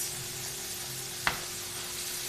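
A vegetable stir fry sizzles in a pan, a soft continuous hiss with a single sharp clack of a utensil against the pan partway through, close and alone.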